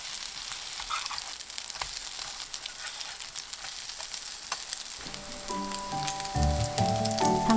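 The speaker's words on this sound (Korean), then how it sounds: "중불로 앞뒤 노릇하게 붙여주세요." Lettuce pancake batter sizzles steadily in a pan over medium heat, a continuous close frying hiss with faint crackles that grows denser toward the end alongside some tonal clatter.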